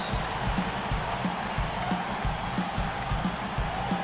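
Home arena crowd in the NBA 2K18 basketball video game, a steady, dense murmur of spectators with faint scattered cheers and claps running throughout.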